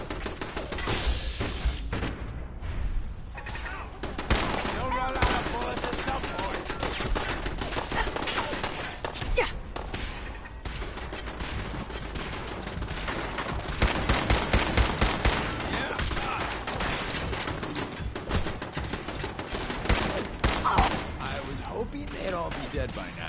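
Sustained gunfire in Fallout 4: rapid, dense bursts of shots and automatic fire rattle continuously for over twenty seconds, loud and close, with intermittent voices speaking underneath the barrage.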